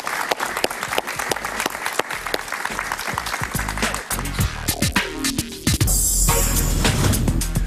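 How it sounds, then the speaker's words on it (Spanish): Studio audience applause on a Spanish-language television talk show, a burst of many hands clapping with crisp individual claps, then shifting into louder music and broadcast sound toward the end. "Un aplauso para él, por favor."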